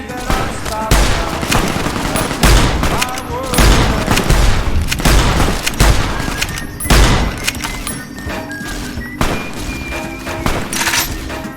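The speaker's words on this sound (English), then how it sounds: "Best time to test out the rifle." Rifle gunfire in the Fallout New Vegas video game: a rapid series of loud, booming shots in bursts across the clip, layered with game effects and some voice underneath.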